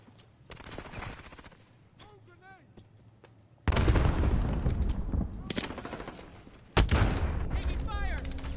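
Heavy gunfire in a Call of Duty match: quiet scattered shots, then two loud, sustained bursts of rapid automatic fire, with voices in the background.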